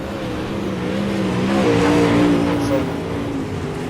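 Super late model dirt race cars warm up at Eldora, a steady engine drone with harmonic roar that swells in the middle, heard close and continuous for several seconds under crowd ambience.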